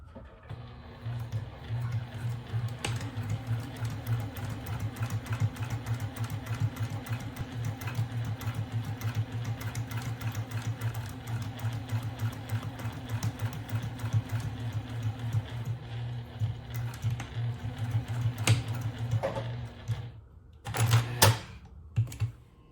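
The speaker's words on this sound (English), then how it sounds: "We're going to top stitch." A sewing machine top stitching a fabric zipper pouch with lining runs in a steady, fast, even whir close by for about twenty seconds, then slows and stops with a few sharp clicks at the end.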